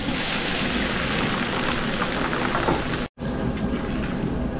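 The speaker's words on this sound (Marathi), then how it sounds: "कढीपत्ता, मित्रांनो, तो यात टाकून घेऊया मिरच्या." Curry leaves and chillies hitting hot oil in a pan for wedding-style upma, a loud, continuous crackling sizzle like heavy rain, broken by one brief dropout before resuming.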